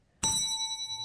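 A single bell strike on a British quiz show marks the end of a turn: a sharp clear ding with a bright ringing tone that sustains and slowly fades, with no talk over it.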